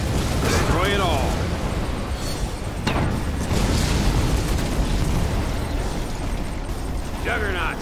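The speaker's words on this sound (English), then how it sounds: "Juggernaut, fire at will." GDI Juggernaut artillery fires in Command & Conquer 3 Tiberium Wars. Booms and blasts roll continuously at mid distance, mixed with sweeping whooshes and unit voice lines.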